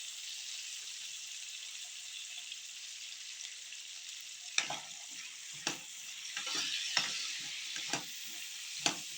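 Turmeric and curry leaves fry in oil for an eggplant dish, a low steady sizzle joined midway by repeated sharp stirring clacks and scrapes against the pan.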